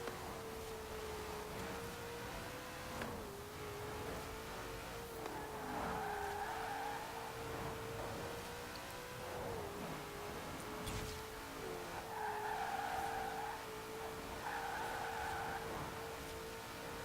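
Virtual 1932 Ford Custom "Double Down" hot rod in Forza Horizon 4, a steady held engine tone at speed running throughout, with repeated tire squeals and skidding bursts rising over it at intervals.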